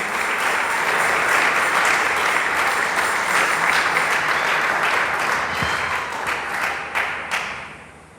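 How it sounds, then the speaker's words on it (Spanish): A church congregation claps for the Lord after a pastor's sermon, a full, sustained round of applause that thins out near the end, with a few isolated louder claps and thumps. "Dele palmas al Señor."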